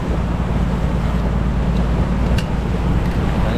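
Steady engine vibration on a small boat drones loud and unbroken under heavy wind noise, with lapping water and no break in the hum throughout.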